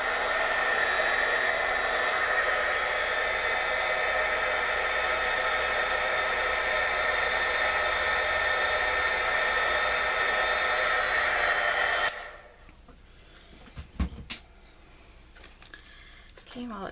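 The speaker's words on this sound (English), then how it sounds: "I'm just going to let my heat tool heat up for a minute." A heat gun blows hot air in a steady, loud whooshing rush for about twelve seconds, then cuts off, leaving quieter handling noises and a few soft knocks.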